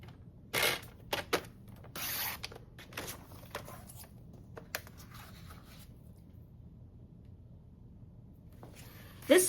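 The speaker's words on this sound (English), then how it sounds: "Okay, and then I'm going to take another cut" Paper being cut, with a few loud crisp swishes and rustles early on, smaller handling clicks, a long quiet stretch and a final sharp cut, close and alone.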